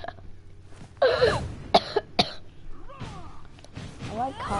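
A person coughs in several harsh bursts, mixed with throat clearing and laughter, close to the mic during a For Honor gaming session.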